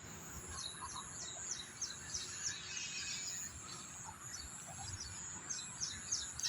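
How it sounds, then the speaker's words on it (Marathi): Sparrows chirp and twitter repeatedly in the background at an outdoor cricket ground, fairly faint, over a steady outdoor hiss with insect-like buzzing. "चिमण्यांचे आवाज खूप छान असे येतात आहे"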